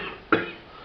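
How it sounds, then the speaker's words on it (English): A single short cough from one person, a sharp burst that fades quickly against a quiet background with no one speaking. "you know, the cough."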